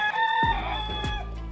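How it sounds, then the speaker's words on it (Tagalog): A rooster crows nearby outdoors in Cabusao in the Bicol region, one loud, drawn-out cock-a-doodle-doo with a few clucks after it, alone without talk. "maingay pa kasi yung ano tilaok ng manok"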